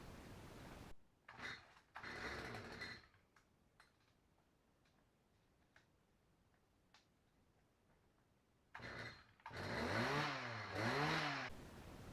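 A garden tiller engine with the choke fully on is pulled over, giving a couple of short loud bursts, then a quiet stretch of faint ticks before it catches and runs loud and steady, revving up and down near the end.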